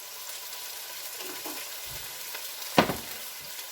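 Salsa hits a hot Dutch oven with a sudden sharp sizzle that flares loudly for a moment, then settles into a low, steady frying hiss with faint stirring.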